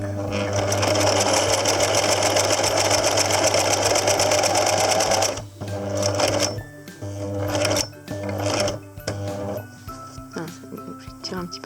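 A sewing machine stitches a buttonhole in a fast, steady mechanical chatter for several seconds, then stops and restarts in a few short bursts while someone speaks French over it.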